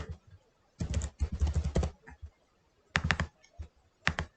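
Typing on a computer keyboard while filling in an Excel workout log, heard as quick bursts of close keystroke clicks separated by short pauses, with no talk.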